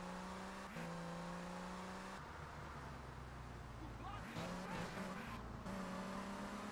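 A car engine in the video game GTA Vice City hums steadily, shifting pitch as it accelerates and revs, with a brief skid-like scrape partway through, all fairly quiet under someone talking.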